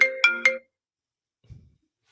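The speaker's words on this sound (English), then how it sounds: "In the middle of that, I got a phone call and it kicked off." A phone ringtone plays three close, bright tonal pulses, loud and alone, followed by a short low thump and then silence, heard during a sit-down interview.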